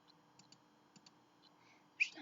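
Mouse clicks on a computer while working in Bandicut video editing software: soft paired clicks at a steady pace, then a slightly louder click, quiet and close.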